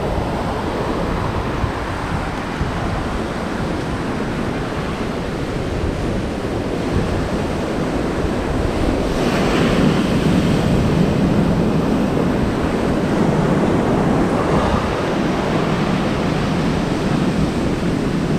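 Ocean waves wash steadily onto a beach by a boardwalk, a continuous broadband surf roar mixed with wind buffeting the microphone, swelling slightly louder midway through.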